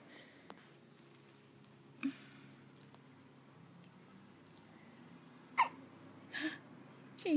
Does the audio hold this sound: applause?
no